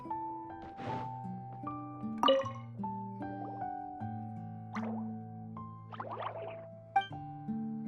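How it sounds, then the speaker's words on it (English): Water droplet dripping in Genshin Impact: soft plopping drops land one after another over a gentle game music backdrop, fairly quiet. "it sounds like a water droplet is on the second floor!"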